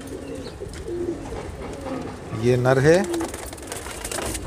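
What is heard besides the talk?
high-flyer pigeons cooing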